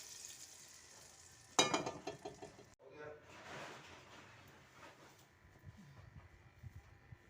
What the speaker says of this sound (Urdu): ہم ڈالنے لگے اپنا تڑکا۔